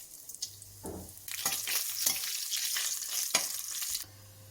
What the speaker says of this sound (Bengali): এবার এর মধ্যে দিচ্ছি একটু জিরে ফোড়ন